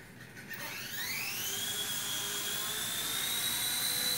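A small XK K124 EC145 RC helicopter flying indoors, its electric rotor whine rising in pitch as throttle comes up, then holding a steady, close, high buzzing drone.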